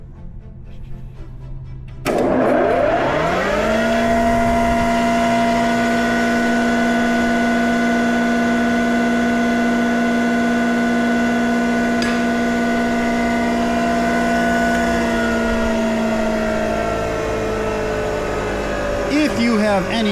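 Crescent 12-inch jointer with a new WEG starter spinning up from a click into a steady, loud electric motor hum and whine that holds evenly, with a faint sound late on.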